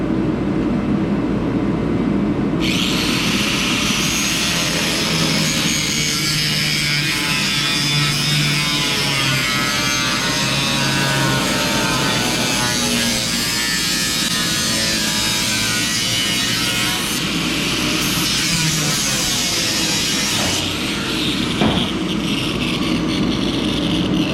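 Power tool cutting through the sheet-metal passenger-side body of a K5 Blazer truck, a loud steady broadband whine that kicks in after a couple of seconds and runs unbroken, with no talking.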